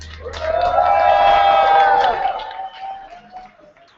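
An audience at a Louder than a Bomb youth slam poetry bout cheers and whoops loudly. One voice rises in a long, bright cheer that swells and then fades over a few seconds.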